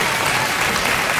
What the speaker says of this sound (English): Why the hell are you applauding?